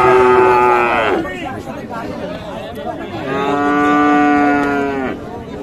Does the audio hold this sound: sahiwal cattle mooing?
yes